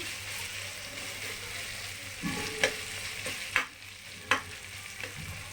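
Ginger-garlic paste sautés in a pan for tomato rice, a steady low sizzle broken by a few sharp spatula scrapes and knocks against the pan, close up with no talking.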